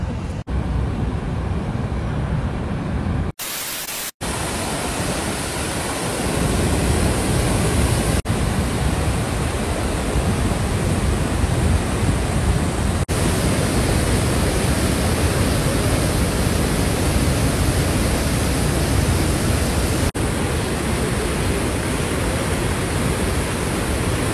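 Jog Falls on a foggy day, a dense, constant roar of falling water heard from a viewpoint, loud and unbroken apart from one brief dropout early on.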